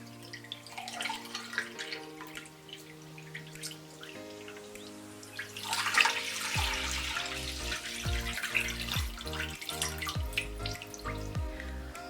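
Water running from a tap while a synthetic wig is rinsed, a steady splashing flow with dripping and handling noises, moderately quiet and continuous throughout.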